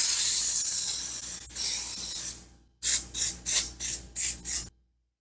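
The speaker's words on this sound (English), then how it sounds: "I still want to spray it with this non-stick cooking spray that has flour in it" Non-stick cooking spray with flour hisses into a bundt pan, first in two long bursts, then in six short, evenly spaced sprays, close and loud with no talking.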